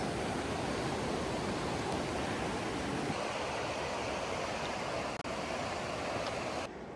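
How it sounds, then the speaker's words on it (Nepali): A mountain stream flows steadily along a trail toward Shey Phoksundo in Nepal, its broad rushing wash continuous and fairly close, with no talk over it. "अलिअलि निल्ने नै पानी बगिरहेछ"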